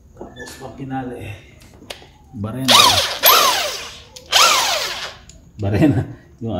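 A power drill with a 22 socket whirs up and winds down in three loud bursts, close by, with someone talking between the runs, while fitting a pulley on a Honda Airblade 160 scooter.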